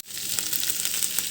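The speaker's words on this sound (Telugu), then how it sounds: "టమాటా కూడా వేస్తున్నాను." Tomatoes hit a hot frying pan, bursting into a bright, loud crackling sizzle that holds steady for a moment, close up with no voices.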